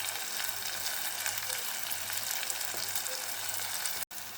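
Onions and spices for Bombay chutney sizzle in hot oil, a steady close, dense frying hiss that stops abruptly just before the end.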